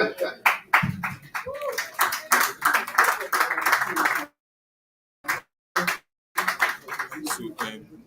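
An audience at a meetup in Nigeria claps in bursts of sharp hand slaps, with a silent gap and then a few scattered claps, while people talk over it.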